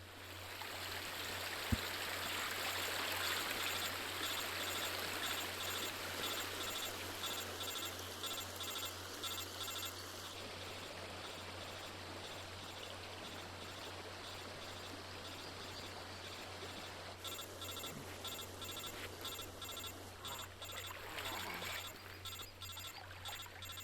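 River water flows steadily in the Metal Gear Solid Delta: Snake Eater video game, a continuous rushing wash with a low hum beneath and one brief click near the start.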